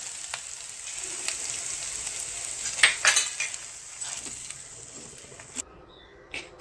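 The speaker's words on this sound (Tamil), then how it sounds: "இந்த ஆயில உப்மாவில் விடணும்." Hot oil poured over rice rava upma crackles and sizzles steadily, with a few sharper clinks of a metal spoon or pan at the start and a louder bright spatter partway through before the sound cuts off.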